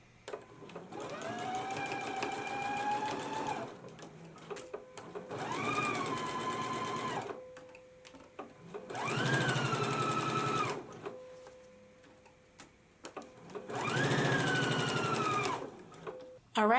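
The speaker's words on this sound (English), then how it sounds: "We're going to stitch the remainder crotch seam in place" A sewing machine stitches the remaining crotch seam of a McCall's 7330 jumpsuit in four steady bursts of rapid whirring, each a few seconds long with short pauses between, close and clear with no talking.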